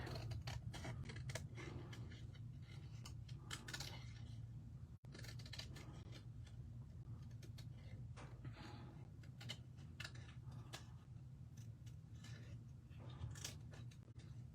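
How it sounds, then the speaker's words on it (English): Scissors fussy cutting paper around a stamped pelican image for a handmade z-fold card, with a steady run of close, crisp snips and paper rustle, no talk, over a constant low hum. "So now we're going to fussy cut."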